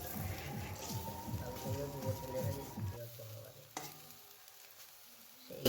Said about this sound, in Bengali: অল্প পরিমাণ তেল দিয়ে বড়াগুলোকে ভাজতে হবে